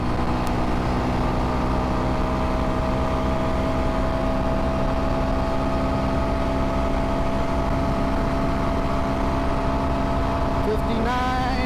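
A 2022 Kawasaki KLX230S ABS motorcycle engine pulling in fifth gear at speed, a loud, steady droning hum with rushing wind noise throughout and a brief rise near the end.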